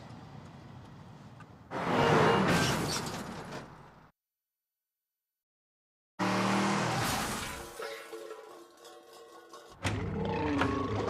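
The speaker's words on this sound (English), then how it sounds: "Canada's worst drivers will do a 180-degree spin out in reverse." A car from a season of Canada's Worst Driver spins 180 degrees in reverse, with loud engine roar and screeching tire squeal in two bursts separated by a few seconds of silence.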